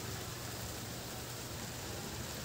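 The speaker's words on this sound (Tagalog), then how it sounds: "Maulan-ulan na. Umaambon na." Steady, soft hiss of light rain drizzling in Davao, Philippines, even and continuous with no distinct drops or voices.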